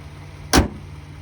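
One short, solid thud as the bed cover of a 2018 GMC Canyon pickup shuts, heard close against a low steady background hum.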